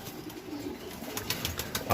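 Soft pigeon cooing runs through an otherwise steady room murmur beside a trapdoor loft, with a few brief flutters and a louder bump at the end.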